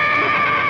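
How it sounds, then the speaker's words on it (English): A horse whinnies loudly and close by, one sustained high, wavering neigh filling the whole moment with no talk over it. "I thought I heard a horse"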